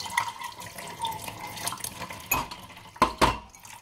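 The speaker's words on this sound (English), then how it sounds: "Here I'm washing my plates." A kitchen tap runs water during dishwashing, a thin steady stream under intermittent clinks and knocks of plates and cutlery, with a few sharp clatters near the end.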